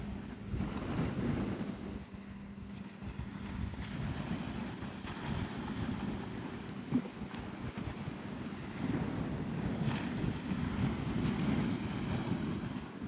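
Boat passing close to the shore at Navarre Beach, Florida, its low steady engine drone blending into continuous surf and wind rumble for the whole stretch, with no talking.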